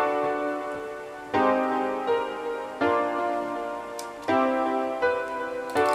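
Chord progression with bouncing top notes played back in FL Studio: four sustained synth chords changing about every 1.5 seconds, with short higher melody notes stepping above them, clear and close with no voices.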